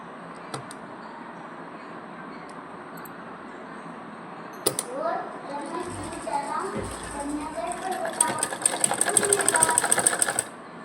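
A sewing machine stitches a button placket onto a kurta, running in a fast, steady rattle near the end after quieter handling of the fabric, while someone talks.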